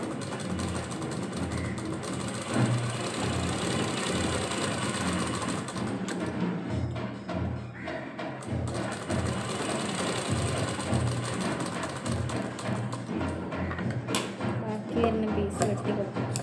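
A sewing machine stitches a saree blouse with a rapid, rhythmic mechanical clatter that pauses briefly and restarts, heard close up while a person talks over it.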